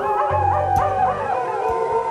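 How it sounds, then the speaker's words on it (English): Canine howling with yips rises and bends through a ravine setting in an audio drama, loud and sustained with overlapping wavering calls. "The howling echoes throughout the ravine."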